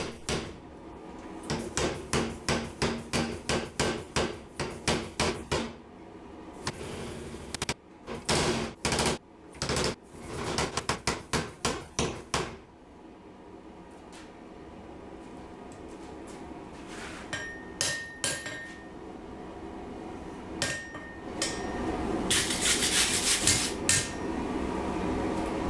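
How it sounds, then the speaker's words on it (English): A homemade power hammer draws out hot leaf spring steel for a timber-framing slick and chisel, pounding in fast rhythmic bursts of loud close strikes, separated by pauses and lighter clanks and scrapes of handling. "I'll do most of the drawing out on my homemade power hammer."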